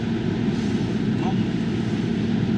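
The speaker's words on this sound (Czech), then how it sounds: "motor jede krásně, má velice dobrou odezvu na plynový pedál" A steady, low diesel engine drone from a Mercedes Vito W639 2.2 CDI van with an OM651 engine runs continuously at an even idle, fairly close, with no talking over it.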